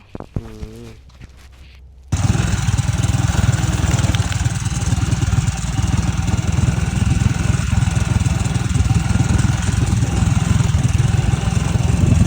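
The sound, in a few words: motorcycle engine, hill bike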